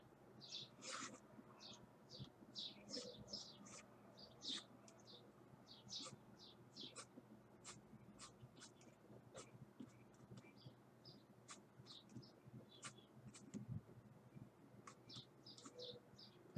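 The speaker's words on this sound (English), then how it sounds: "I hear birds." Small birds chirp and tweet again and again in quick, scattered bursts throughout, faint and somewhat distant over a low hiss of background noise, with no voices.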